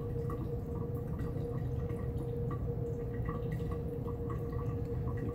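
Condensed liquid drips inside a simple distillation apparatus, soft irregular drips and small plinks over a low, steady background hum.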